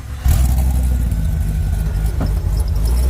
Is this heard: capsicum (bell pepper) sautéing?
no